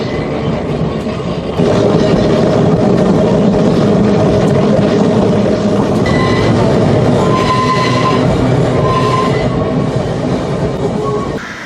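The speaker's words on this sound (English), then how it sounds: "We're on the Manx Electric Railway at Derby Station Stop" Manx Electric Railway tram at Derby Castle station on the Isle of Man, a steady loud rumble of rail running gear and motors with rising intensity and some squealing tones, continuous throughout without speech.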